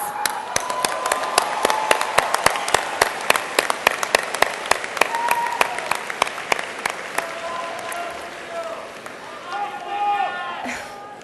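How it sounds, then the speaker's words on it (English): Graduates at a college commencement ceremony break into loud, sustained applause for their families, a dense crowd of clapping that slowly thins toward the end. "Please give your family, for all they have done for you, a round of applause."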